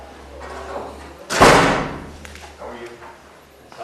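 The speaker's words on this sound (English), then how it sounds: "That's how we shut doors around here." A door slams shut with one loud, sharp thud in a hearing room, followed by a fading rumble and faint background noise.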